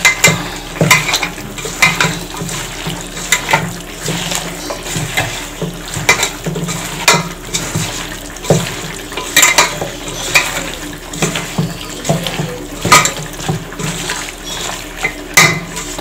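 Goat meat being mixed with a little oil by hand, giving steady wet squelching and slapping sounds with faint clinks against a bowl, close and continuous with no talk.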